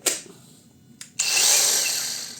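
A Procraft cordless angle grinder on an 8 Ah battery gives a short starting burst, a brief second blip, then a loud whine that fades as it cuts out into protection.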